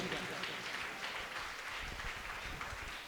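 A church festival congregation applauding, a broad wash of clapping from many hands that stays steady and fairly distant throughout.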